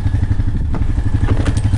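A quad bike engine drones loud and close while driving on a Costa Rica outing, with a rapid pulsing throb and some rattling clatter through the whole short stretch.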